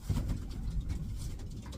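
Pigeon cooing from a Van Loon line bird in Vancouver, Canada, steady low repeated coos close to the recorder with no talking.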